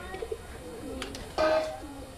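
Green-eyed Madrasi pigeons in a loft cooing softly, low murmuring calls close by, with someone talking over them and a brief louder burst of noise.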